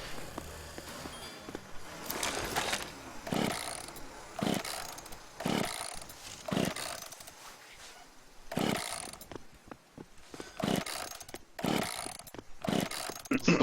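A chainsaw in the combat game The Culling revs in a series of short, loud, evenly spaced bursts over a steady mechanical drone, fairly close and with no other sound standing out.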